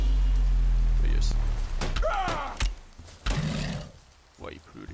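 Steady rain ambience from the video game For The King, a soft hiss with occasional thuds and other game sounds over it.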